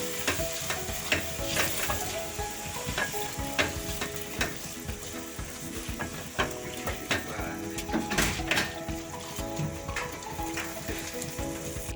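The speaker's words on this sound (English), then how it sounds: "Then I'm going to add my soaked rice. Then I'm going to stir." Soaked rice frying in a pan, steady sizzle with repeated scraping stirs of a utensil across the pan throughout, close and moderately loud, no voices.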